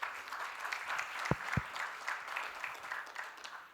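A conference audience claps in sustained, even applause, heard at a moderate distance, with a couple of low thumps partway through.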